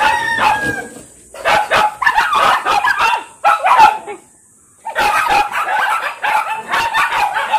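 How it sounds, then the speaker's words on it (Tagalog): Several dogs bark and yip in loud overlapping bursts, with a brief pause near the middle before the barking starts up again close by. "Minsan guys, maingay talaga dito sa amin kasi dami kami mga aso at pusa."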